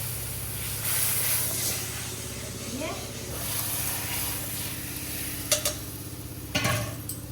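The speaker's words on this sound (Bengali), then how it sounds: "একটুখানি ঝোলটা দিয়ে ভালো করে কষবো মশলাটা" Spice paste fries with a splash of curry broth in a pan, giving a steady close sizzling hiss throughout, with a couple of sharp utensil clinks near the end and a voice murmuring in the background.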